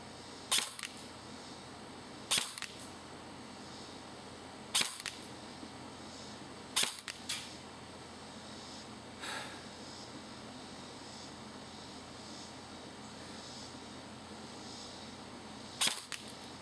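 Airsoft AEG shots fired at a target 50 feet away while zeroing sound as about six sharp, crisp pops, spaced irregularly a few seconds apart over a quiet background.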